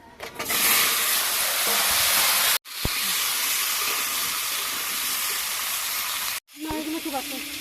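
Potato pieces drop into hot mustard oil already spluttering with dried red chillies, bay leaves and whole cumin, raising a loud, steady hiss and sizzle with two brief breaks and a voice near the end.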